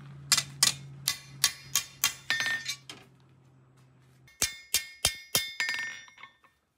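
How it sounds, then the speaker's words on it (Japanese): A hammer taps a katana blade to straighten its bends, giving bright metallic clinks in two rhythmic runs of about half a dozen strikes each, close and clear, with a short pause between runs. "こうちょっと叩いてこう曲がりとかを直してる"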